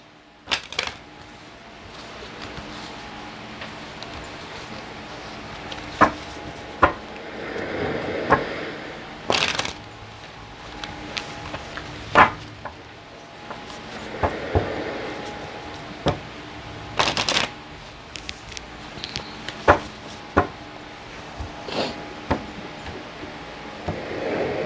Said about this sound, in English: I'm going to be using the Mermaid Tarot by Dame Darcy